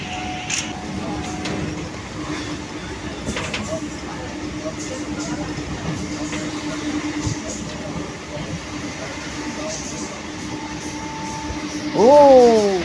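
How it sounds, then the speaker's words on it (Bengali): A night train rolls along the tracks with a steady rumbling clatter throughout, growing louder near the end with a brief whining squeal, and nobody talks over it. "অন্ধকারের বুক চিরে ছুটে চলেছে রাতের ট্রেন।"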